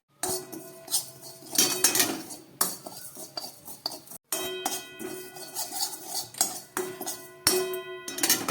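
Whole spices with ground coriander and black pepper are fried for a plum pickle while a metal spoon stirs and scrapes the pan. Repeated clinks and clatters sound close and fairly loud, with short pauses between bursts.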